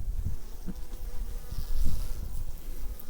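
Honey bees buzzing at a beehive in a beekeeper's apiary, a steady low drone from many insects with occasional louder close passes, continuous throughout and with no talking.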